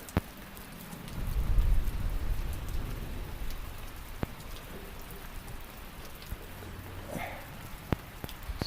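Steady rain falls outdoors in a continuous soft patter with scattered distinct drops, swelling slightly early on, and no talk over it.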